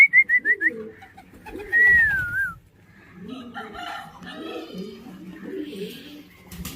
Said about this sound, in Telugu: ఇంకో బర్డ్ వచ్చినట్లుంది